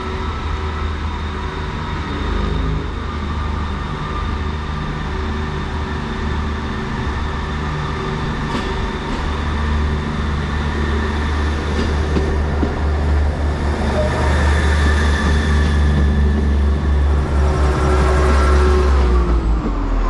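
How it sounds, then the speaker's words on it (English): A Great Western Railway Class 158 diesel multiple unit, 158951, bound for Barnstaple, rumbles loudly and steadily at close range, its engine drone building and then easing toward the end with no voices. "the partner now is the 1419 Great Western Railway service to Barnstaple, formed of"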